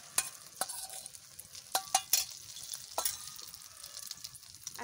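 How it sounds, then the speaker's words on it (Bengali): Beaten eggs poured into a hot pan for egg stick kebabs, giving a soft, fairly faint sizzle broken by several crisp taps and scrapes of a utensil. "যেটুকখানি আমি ডিম গুলাইছি সব একবারে ঢেলে দিচ্ছি"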